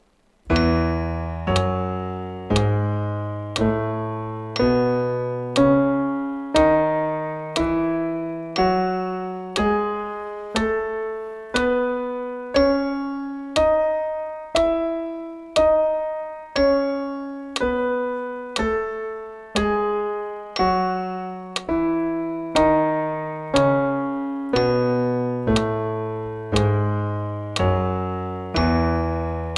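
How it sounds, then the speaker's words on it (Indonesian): Steady slow clicks of a metronome with a brighter ding on every fourth beat, under sustained piano chords moving through a slow progression. "Itu bunyi tingnya itu karena dia ngitungnya 4."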